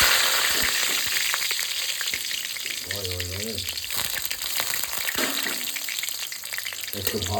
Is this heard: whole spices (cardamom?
yes